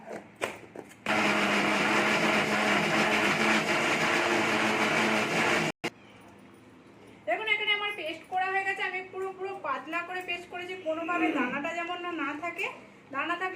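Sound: mixer grinder grinding soaked moong dal without water

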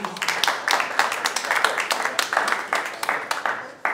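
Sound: audience applause

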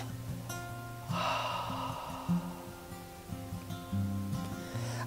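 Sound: breathing out through the open mouth

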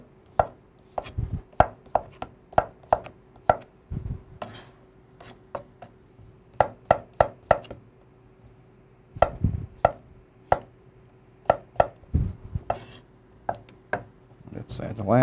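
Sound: cutting potatoes for German potato salad

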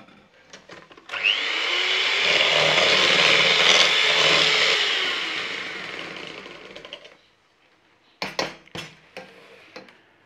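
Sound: mixing milk into chocolate sponge batter

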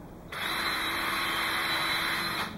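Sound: power drill drilling a small pilot hole in wood

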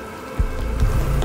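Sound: rain pouring in Cyberpunk 2077 video game

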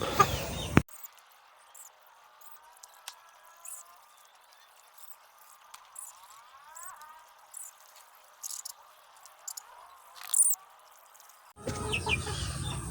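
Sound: chickens clucking

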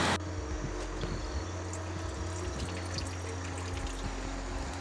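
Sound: river water flowing over small waterfall rapids

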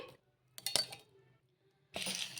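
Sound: roasted peanuts poured into a mixer jar

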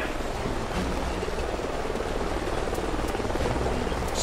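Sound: helicopter flying overhead in the video game Call of Duty Ghosts

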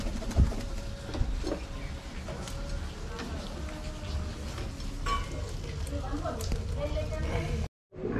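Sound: pigeons cooing at a loft

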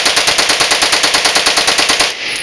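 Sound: Colt 907 machine gun firing a three-shot burst

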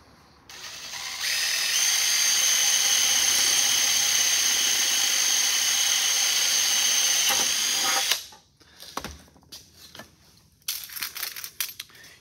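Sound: drill boring through sheet metal for rivet

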